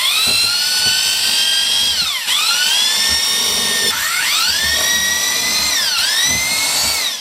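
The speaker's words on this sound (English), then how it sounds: "and drill 4 holes" A power drill bores four holes in a door to fit a cat flap, its loud whine speeding up and dipping with each hole in repeated bursts, close and alone.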